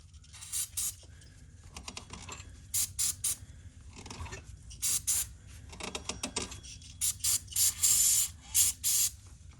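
Aerosol spray can, nearly empty, blasting dust off parts of a Honda with a drive pulley problem, in a series of short sharp hissing bursts of varied length separated by pauses and small mechanical clicks, close and alone.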